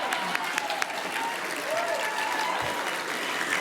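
Steady audience applause at a Fredericton State of the City Address, a dense even patter of many hands clapping indoors at moderate level, continuing throughout with a faint voice briefly underneath.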